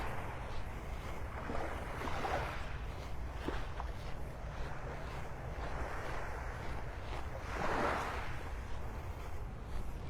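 Ocean surf washes onto a beach on a windy morning, with a broad steady roar and swelling waves that rise and fall, plus wind noise buffeting the microphone and faint footsteps on sand.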